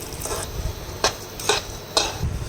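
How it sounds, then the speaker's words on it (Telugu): Cashews frying in ghee for dry fruit laddu are stirred in a pan, a soft sizzle broken by three or four sharp scraping strokes of the spoon at roughly half-second intervals. "ఇప్పుడు జీడిపప్పు ఫ్రై చేసుకుందాము."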